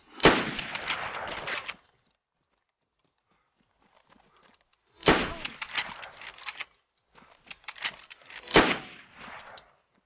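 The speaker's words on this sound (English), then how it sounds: "He's shooting me in the legs with a repeater." Repeater rifle shots in the video game DayZ, arriving as three loud bursts with sharp cracks and rattling tails, separated by stretches of near silence.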